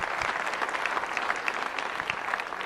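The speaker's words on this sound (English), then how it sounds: "If you're 50 or older, clap for me now." Comedy club audience clapping on cue, a brisk, even patter of many hands throughout, moderately close and uninterrupted by talk.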